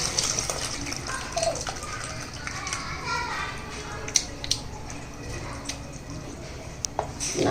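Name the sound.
pouring tamarind water into horse gram rasam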